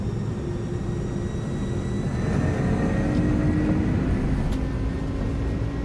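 Simulated jet engines of an IniBuilds A300-600R at TOGA thrust during a takeoff roll in Microsoft Flight Simulator: a steady, loud broadband roar with rising whine tones that build and hold for several seconds, with no talking.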